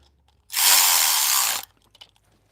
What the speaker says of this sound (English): And then we have to go ahead and start torquing them down.